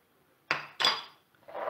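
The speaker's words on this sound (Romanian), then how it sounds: "Și amestecăm bine toate aceste ingrediente." A utensil knocks and clinks against a bowl in a few sharp strikes while baking powder, sugar and salt get mixed, followed by a softer scraping stir.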